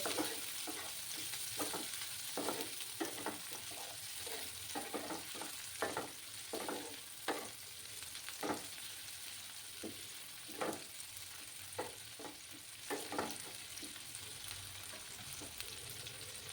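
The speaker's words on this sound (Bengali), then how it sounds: "পেঁয়াজগুলোকে একটু লাল লাল করে ভেজে নিতে হবে" Sliced onions fry in oil in a pan until reddish, for an eggplant dish: a steady, close sizzle with a spatula scraping and stirring in irregular strokes throughout.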